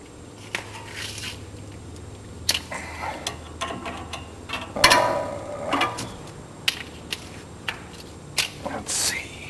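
A socket wrench ratchets on a nut during repair of the outer right side joint on a 2010 Ford F-350, giving irregular bursts of sharp clicking and metallic ticks, close up.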